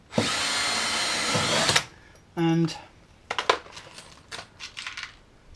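A power drill drives screws through GRP fibreglass panels, with a long loud whirring burst, a shorter high-pitched whine after a pause, then scattered clicks and clatter nearby.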